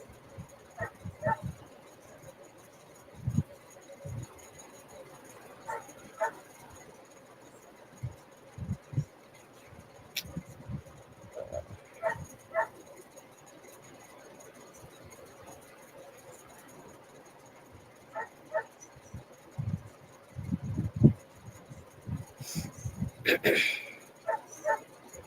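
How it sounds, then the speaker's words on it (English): A neighbour's dog barks in the distance, sending scattered yips and short whimpering barks in irregular bursts across a quiet room, faint and intermittent throughout. "Like I got a neighbor's dog that's barking in the background."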